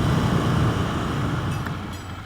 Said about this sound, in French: Passage à niveau italien. En plus, c'est un TGV français, Milan-Paris.